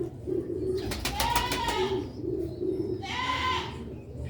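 Pigeons at a Sialkot bird market coo in soft, low, throaty phrases, repeated steadily and heard fairly close. Brief harsher calls from other birds come through now and then.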